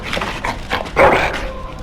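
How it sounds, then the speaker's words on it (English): A dog in the Dragon Age: Origins video game whimpers and gives a brief bark, close and fairly loud over a noisy ambient background. "Bloody dog."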